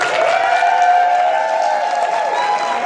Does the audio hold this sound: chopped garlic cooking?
no